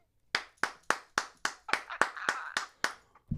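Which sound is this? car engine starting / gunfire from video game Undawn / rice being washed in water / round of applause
round of applause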